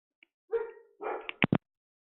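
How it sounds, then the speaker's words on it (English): A dog barks a few times close by, starting with a drawn-out yelp or whine and ending with two short sharp barks in quick succession. "Oh, my dog's tripping."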